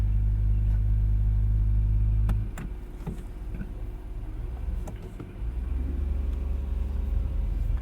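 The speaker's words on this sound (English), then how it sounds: "So the car starts up in sport mode," A 2020 Acura NSX hybrid starts up in sport mode: a loud low engine rumble that abruptly drops after about two seconds, leaving quieter mechanical clicks and hum before a soft rise again.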